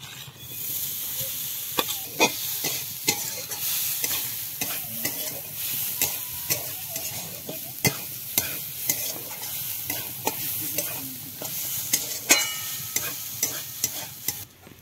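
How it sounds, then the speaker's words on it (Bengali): Grated coconut lightly fries in a hot wok (kadai), a soft continuous sizzle punctuated by regular sharp scrapes and clicks of a spatula stirring, close and alone with no talk. "নারকেলটা আমি হালকা ভেজে নিয়েছি।"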